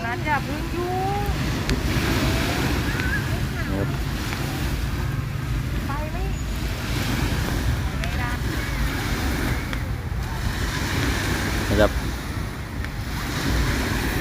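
Sea waves wash steadily onto the sand at Bang Saen beach, with a continuous surf roar, wind buffeting the microphone and someone speaking over it for much of the time.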